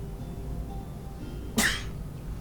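A single sharp sneeze bursts out near the mic against a quiet room hum, brief and loud, with nothing else happening around it.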